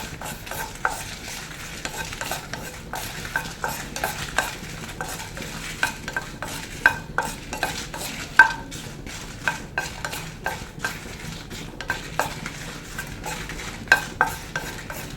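Twelve dried Kashmiri red chillies tossed in a dry pan, stirred with repeated light scraping clicks and taps in an uneven rhythm over a faint low hiss, close by and without talk.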